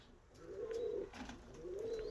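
Two breeding pigeons coo softly at close range, a pair of low rolling coos about a second apart in a quiet loft, with no one speaking.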